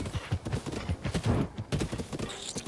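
Horse hooves clip-clop steadily in the video game Zelda Breath of the Wild, a close, brisk run of rhythmic thuds continuing throughout with a brief pause midway.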